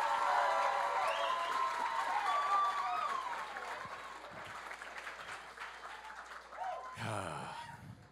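A graduation crowd in Summit County, Colorado rehearses a single clap; the audience makes dense, sustained clapping and crowd noise with voices mixed in, ending in a louder, brief burst of crowd reaction.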